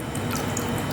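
Chicken pieces being washed in water, a steady close wash of sloshing and trickling liquid that fills the whole short moment without pause.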